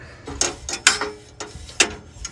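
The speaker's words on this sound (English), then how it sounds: "Get my screwdriver with the 5/16 on it." A 5/16 nut driver backs a screw out of a furnace burner, giving a few quick, close ratcheting clicks and metallic turns spaced unevenly over a couple of seconds.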